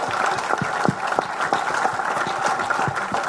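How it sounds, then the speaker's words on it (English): An audience at a live IndyCar talk event in Portland applauds, with a dense, moderately loud patter of clapping that continues evenly for a few seconds. "And he deserves that applause."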